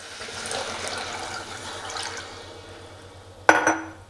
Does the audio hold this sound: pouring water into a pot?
yes